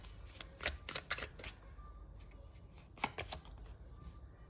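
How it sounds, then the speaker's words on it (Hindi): Oracle cards being drawn and shuffled, a run of quick papery riffles and flicks in bursts, close and moderately loud, with a brief pause before another cluster of snaps. "पहले यहाँ से कार्ड लेते हैं, मैं सारे कार्ड्स निकाल लूंगी"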